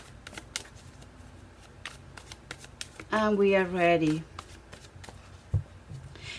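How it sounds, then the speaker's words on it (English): A deck of tarot cards is riffled and shuffled in one quick burst, preceded by soft taps and handling of the cards, while a person speaks briefly nearby. "I shuffle before I start the readings"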